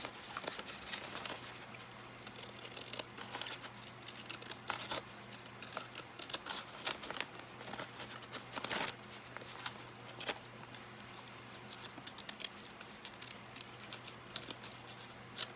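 Scissors snip through paper while pages are trimmed, giving a close, quiet run of irregular cuts and rustling with no talk.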